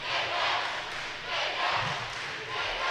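Crowd cheering and shouting at a karate tournament, a broad steady roar swelling in waves with some low thuds underneath.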